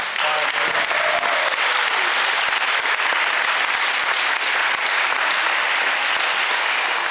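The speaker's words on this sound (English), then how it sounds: "So let's have a round of applause for how." A school band concert audience gives steady, dense applause that holds at full strength for several seconds, with faint voices mixed into the clapping.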